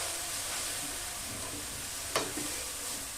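Grated carrot frying in ghee for carrot burfi, a steady soft sizzle with one brief sharp scrape of stirring near the end, no voices.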